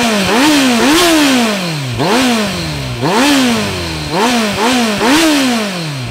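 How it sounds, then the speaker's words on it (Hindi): A Kawasaki Z900 motorcycle engine revs hard several times in a row, each blip climbing in pitch and then falling back, loud and close with no voices. "तो स्टार्ट करते हैं Z900 को पहले।"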